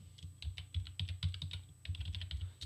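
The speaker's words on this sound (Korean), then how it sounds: "자, 이렇게 글자를 쳤습니다" Keys on a computer keyboard are typed in quick, busy runs with a short pause partway through, close and fairly loud over a steady low hum, with no voices.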